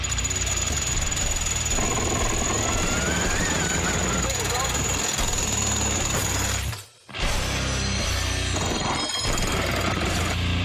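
A heavy hammer machine smashes reinforced glass, pounding and rattling loudly and continuously, with crunching, shattering impacts, a sudden brief cutout, then resumes hammering.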